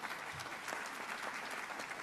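A conference audience breaks into a short, steady round of applause, many hands clapping at an even level in a large room.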